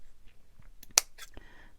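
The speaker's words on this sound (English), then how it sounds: "I don't normally use those scissors for lace and fabric." Scissors snip while trimming lace and fabric for a junk journal flower fairy ephemera piece, one sharp close cut with a few softer rustles around it.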